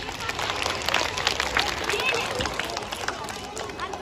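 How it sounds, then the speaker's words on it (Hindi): An audience at a school poetry recital for Republic Day claps, a dense patter of many hands with crowd murmur underneath, steady and moderately loud throughout. "इतनी मां शारदे की वंदना के लिए एक बार फिर से जोरदार तालियां।"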